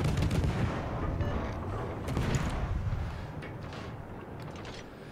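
Naval guns fire in World of Warships, a loud, low rolling salvo blast that decays into a rumbling tail over several seconds, with a few sharper cracks mixed in.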